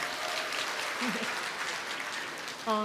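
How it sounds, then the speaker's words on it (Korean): Audience clapping in celebration at a talk, a steady even patter of many hands held at a moderate level, with a short voice briefly heard over it. "우리 축하하는 의미로 박수 한번 치고 시작할까요?"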